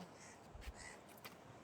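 Crows at a seashore give two or three faint, distant caws over a soft background hiss.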